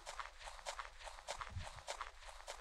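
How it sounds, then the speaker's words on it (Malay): Steady footsteps from a player character walking in the short horror game Garbage Take Out Day, with soft, evenly spaced steps close by over a quiet, dark ambience. "Masa ni aku dengar tapak kaki aku je."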